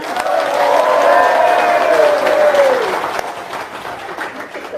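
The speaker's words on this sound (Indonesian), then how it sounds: "tepuk tangan dong, luar biasa" An audience claps and cheers in a loud, dense burst of applause that swells briefly and then fades over a few seconds.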